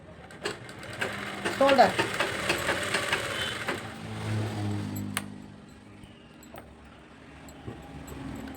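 A sewing machine stitching a lined blouse runs in a close, steady whir for a few seconds and then slows and stops, while someone talks over it.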